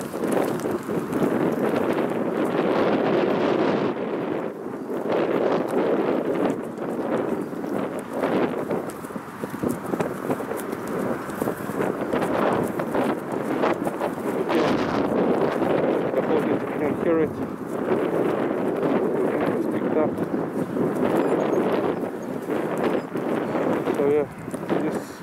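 Strong wind buffets the microphone in gusty, continuous roaring bursts across a sunny open field during a walk with an Alaskan Malamute, with speech mixed in under the noise.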